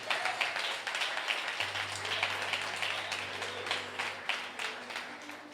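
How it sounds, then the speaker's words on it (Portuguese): A church congregation applauds during an evening service, with dense, steady clapping that holds at an even level for several seconds over a faint low hum. "Você pode aplaudir ao Senhor nessa noite"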